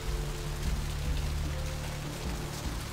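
Steady rain pattering on surfaces in a dark alley at night in Vampire: The Masquerade – Bloodlines, a dense continuous hiss with soft low rumbling underneath.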